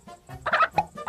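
A hen clucks in a quick series of short, sharp, close calls, loud and alone with no talking.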